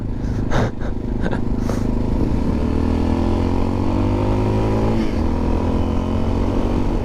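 A motorcycle accelerates along a road in the Paris region, its engine drone climbing steadily in pitch through successive pulls, loud and close over constant wind rush, with no talking.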